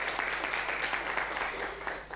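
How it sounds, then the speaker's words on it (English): An audience at a law school panel event on intellectual property and health claps in brief, warm applause, the dense patter of many hands holding steady and then slightly fading. "So a warm round of applause to Chebet."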